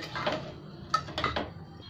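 A frying pan is set down on a stove, with hot white oil ready for frying paneer, giving a few close metallic clanks and knocks of cookware, with no talking.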